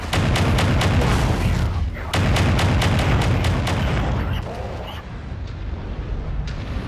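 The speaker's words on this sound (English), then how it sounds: "I probably shouldn't have been using my loud weapons to drown out his gunfire." Loud mech weapons and gunfire in the video game MechWarrior 5: Mercenaries, a rapid train of sharp, booming shots in two close bursts, then fading thuds and rumble.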